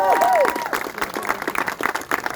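An audience claps steadily, a dense patter of applause with a faint tonal sound at the start.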